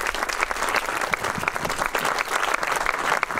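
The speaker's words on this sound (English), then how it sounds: "Let's give a round of applause for 160 years of operation." A crowd at an exhibition hall dedication gives a round of applause, continuous and full, many hands clapping close by at an even level from start to finish without speech.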